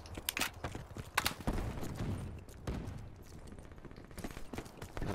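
Rapid gunshots from shooting a group of enemies in a video game, a busy cluster of sharp cracks and bursts at moderate level, with no speech over them.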